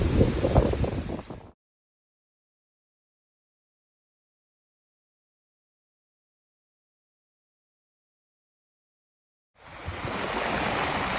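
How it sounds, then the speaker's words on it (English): Flood water runs down from the mountains and over a road in Death Valley, a dense rushing roar heard in two short bursts, loud at the start and again near the end, with silence between. "Checking in again on the water running down from the mountains."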